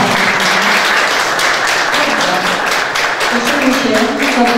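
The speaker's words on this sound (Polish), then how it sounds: "Dziękujemy Pani za to i duże brawa." Loud applause from an audience at a public meeting in Sępólno Krajeńskie, dense continuous clapping close by with voices mixed in underneath.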